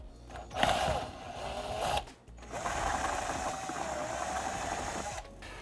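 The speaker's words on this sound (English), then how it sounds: "you just wanna make sure you don't drill too deep and damage the plastic that's on the other side" A drill bores through the first layer of a plastic fender on a Can-Am Maverick X3, two whirring bursts with a rising whine, the second longer, close and fairly quiet without talk.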